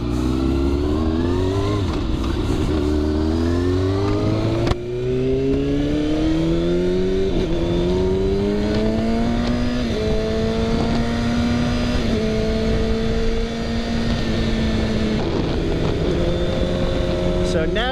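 A 2019 Kawasaki ZX6R motorcycle fitted with a Cordona PQ8 quick shifter is ridden hard on a hot day, its engine rising loud and close through repeated upshifts, with a brief cut in the drone at each quick gear change.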